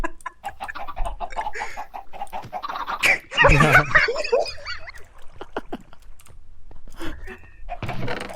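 Chickens in the video game Minecraft cluck in a loud burst of squawks near the middle, with lighter clucks around it and rapid computer keyboard clicking throughout.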